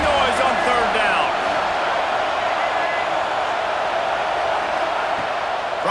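Stadium crowd roaring in the College Football 26 video game, a steady dense wash of noise on third down under a play-by-play commentator's voice.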